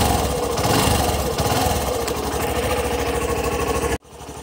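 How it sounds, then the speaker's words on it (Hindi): A Hero Passion Pro motorcycle engine with i3s mode on idles close by in a steady, even putter, then dips sharply for a moment near the end before carrying on more quietly. "सबसे पहले फर्स्ट ऑफ ऑल थिंग कि बाइक स्टार्ट कर लेते हैं"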